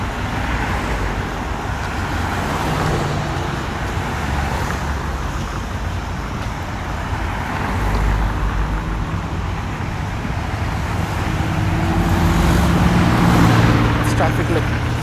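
Steady, loud roar of heavy traffic heading north into the city at a Houston intersection without turning lanes, a continuous wash of tire and engine noise with passing vehicles rising slightly toward the end.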